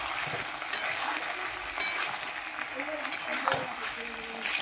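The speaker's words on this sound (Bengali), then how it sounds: "চলো মশলাটা একটু কষে নিই" Masala being fried and stirred with salt in a pan for Bengali chicken curry with potatoes: a soft sizzle under scattered clinks and scrapes of a spoon against the pot, a few sharp taps standing out.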